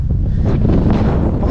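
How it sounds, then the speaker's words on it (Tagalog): Strong wind roars across a high mountain slope, buffeting the microphone in a continuous loud rush with no letup. "Pakalakas ang hangin."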